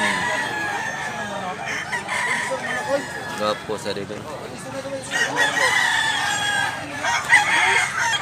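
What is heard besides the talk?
rooster crowing and clucking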